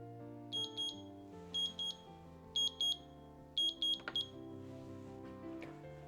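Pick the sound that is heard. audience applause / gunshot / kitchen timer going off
kitchen timer going off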